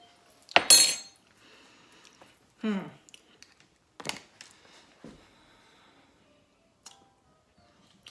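A clean metal spoon clinks against dishes in a home kitchen while banana cake is being made, a few sharp separate taps spaced out over quiet, with a voice speaking briefly between them.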